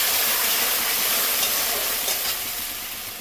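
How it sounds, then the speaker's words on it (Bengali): Ground spice paste with salt frying in a pan for a Bengali rohu fish curry, a steady, fairly loud broadband sizzle with faint stirring, continuous and alone without voices. "লবণ দিয়ে দিচ্ছি, কিছুক্ষণ ভেজে নেব।"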